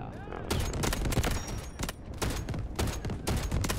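Rapid bursts from an attack helicopter's gun in Delta Force, loud and close, firing in repeated volleys with short pauses between them.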